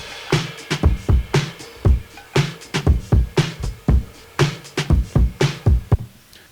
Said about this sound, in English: And then also at the end of the song, added like a ride and a hi-hat.